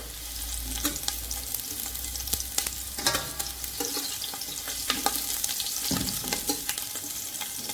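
Chopped onion sautés in a pan for a restaurant-style quzi, giving a steady close sizzle with scattered stirring scrapes throughout and no one talking.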